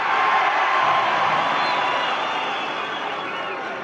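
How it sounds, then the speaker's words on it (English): Noisy basketball arena crowd at Kentucky during a free throw against Vanderbilt, a steady loud roar of many voices with whoops, heard over a radio broadcast. "Some of the key Kentucky officials striving hard to get the crowd to be quiet on the free throw, but they can't do it"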